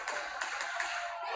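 Crowd applause at a PPW heavyweight championship wrestling match between Dio Bando and Dan Stofko, a steady wash of many hands clapping, fairly distant and moderately loud, with no voices over it.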